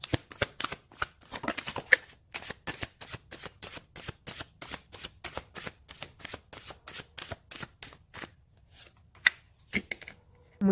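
Tarot cards are shuffled in a steady run of crisp riffling flicks, close and fairly quiet, with a brief pause near the end.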